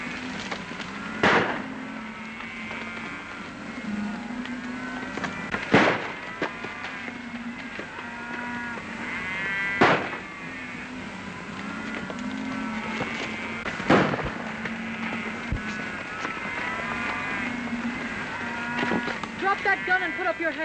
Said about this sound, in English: How dare you stampede our cattle?